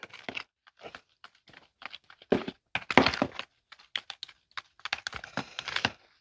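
Seasoned flour with salt and black pepper being mixed in a bowl for buttermilk fried chicken, heard as a string of close, irregular dull knocks and gritty scrapes with brief silent gaps.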